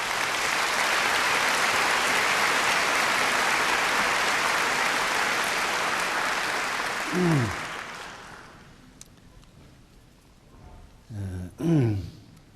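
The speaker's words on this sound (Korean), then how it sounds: "나오실 때 박수로 크게 환영하십시다" Loud, sustained applause fills a large church evening rally as a preacher is welcomed, dense clapping for about eight seconds that fades out, followed by a speaker's voice in a quiet hall.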